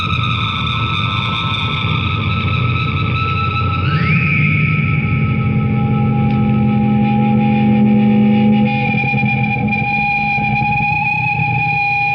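Electric guitar played through a homemade reverb pedal, drenched in heavy reverb and echo, sustained chords with a rising pitch sweep, loud and washy with a steady ringing tail.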